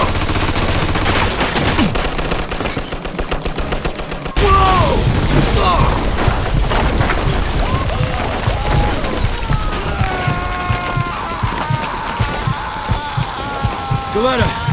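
Rapid machine gun fire rattles through a Mafia 2 firefight, dense bursts of shots in quick rhythm, loud and close, with shouting voices breaking in over the gunfire.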